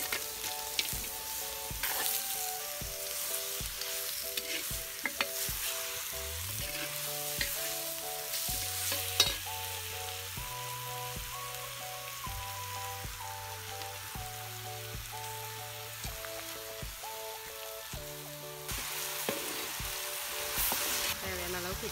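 Pieces of cut farm rabbit meat sizzle and fry in a spicy paste for a village rabbit curry, a steady close crackle with stirring scrapes and no talking.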